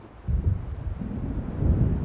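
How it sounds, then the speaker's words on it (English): A storm rolling in over dark lake water in Alan Wake Remastered, heard as a low, continuous rumble of thunder and wind that swells in after a brief quiet start and keeps growling on. "It seems there's a storm coming."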